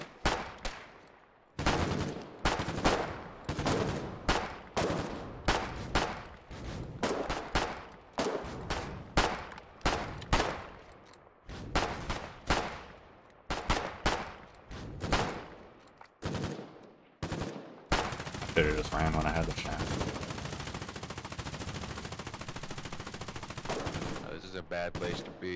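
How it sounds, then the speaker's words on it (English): Machine gun fire in the war game Foxhole, repeated loud close bursts in a steady chattering rhythm, then a denser sustained stretch of shooting near the end. "Guess we have some machine guns of our own now"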